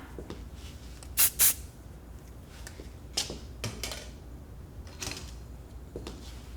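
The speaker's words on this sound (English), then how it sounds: "Go in with the Max Control spray again." Max Control hair spray hisses from a can in two quick, loud bursts backstage at New York Fashion Week, followed by a few shorter, softer sprays over a low background hum.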